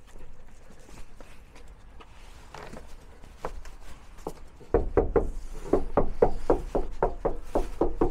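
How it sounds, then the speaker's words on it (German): A knock test on the outside of a camper van wall insulated with Armaflex: faint taps at first, then a run of louder, dull, close knocks in a quick, uneven rhythm. "Machen wir den Klopftest von außen."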